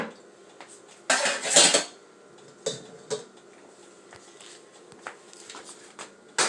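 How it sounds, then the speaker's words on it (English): Penne pasta tumbled into a pan of mushroom and spinach cream sauce, with a loud clattering burst of metal and utensil contact, followed by a few sharper knocks and softer scrapes. "we're going to be tossing this penne pasta right into the mixed sauce"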